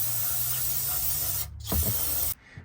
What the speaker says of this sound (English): Now we're going to just brake clean it a little bit